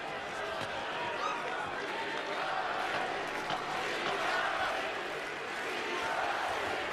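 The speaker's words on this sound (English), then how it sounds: "The crowd in Berlin chanting Klitschko's name." A boxing crowd in Berlin chants Klitschko's name during Vitali Klitschko's world heavyweight title fight against Sam Peter, a broad, distant-sounding arena roar that swells and dips through the final seconds of round one.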